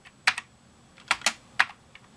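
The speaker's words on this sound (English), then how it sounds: "This is an old keyboard." Keys struck on an old PS/2 computer keyboard, several distinct clacks in small clusters with short gaps, close and clear in a quiet room with no talk.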